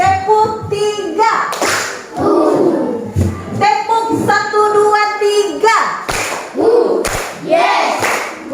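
A class of schoolchildren performs a rhythmic clapping chant, with sharp clap bursts coming in patterned groups, mixed with children's voices and loud chanting, recorded close up in a classroom.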